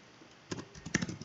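Quick taps on a computer keyboard, a short burst of close, faint key clicks after a quiet moment, with no voices.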